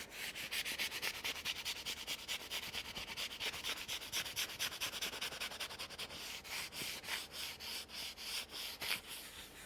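Crackled milk paint being rubbed off a wooden surface, a steady close abrasive scrubbing with rhythmic strokes that quicken toward the end, heard alone without talk.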